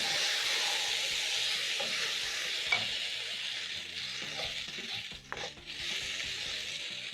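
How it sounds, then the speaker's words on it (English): Tomatoes sizzle steadily in a hot frying pan for masala scrambled eggs, a continuous close hiss of frying with a couple of brief stirring scrapes and light clinks near the end. "I'm going to add in my tomatoes in my pan. Then I'm going to cook down the tomatoes for around a minute."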